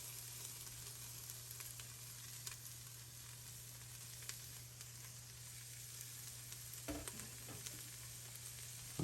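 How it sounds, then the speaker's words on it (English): Onion, carrots and celery fry in warm olive oil, giving a soft, even sizzle that runs continuously with a few faint clicks and stirring taps near the end. "the olive oil is in, it's warm and shimmering, so we're gonna add the vegetables. Onion, carrots, and celery right on in."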